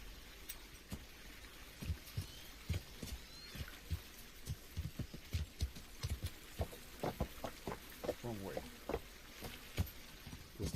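Horse hooves trotting in the video game Kingdom Come: Deliverance, a quiet, regular clip-clop of distinct thuds that grows denser and louder toward the end, with faint talk in places.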